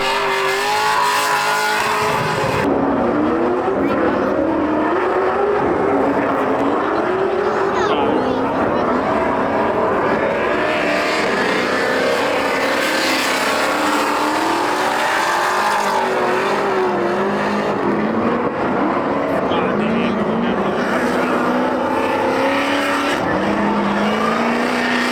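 Several drift cars drive past at Holley LS Fest West in Las Vegas with revving engines and squealing tires, a continuous roar of motorsport engines under some background chatter.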